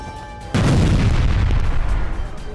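A single heavy explosion from charges blowing up empty houses in a ruined area of Gaza bursts suddenly and loudly after a quiet start, followed by a rolling, rumbling decay.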